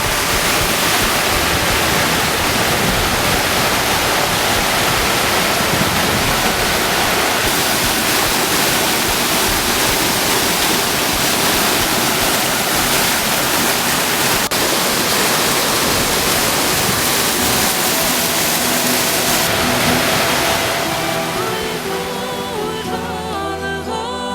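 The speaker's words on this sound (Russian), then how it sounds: "Вот это водопад Куп-Караук." Kuk-Karauk waterfall roars as a dense, loud, unbroken rush of falling water, close and steady for the whole stretch, with no voices over it.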